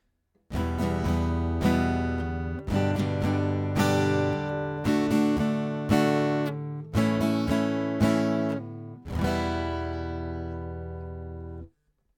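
A guitar strums quick, even rhythmic patterns in several bursts, each ringing out before the next, ending with a held chord.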